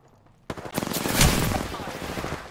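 Rapid automatic gunfire in the video game Apex Legends, a loud continuous burst of closely spaced shots lasting about two seconds after a brief quiet start.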